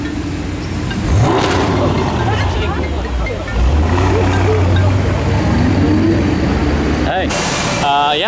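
Cars driving past near the entrance of the F1 circuit tunnel, a continuous loud roadside rumble with engines and tyre noise building and fading as vehicles pass close by, with people talking over it.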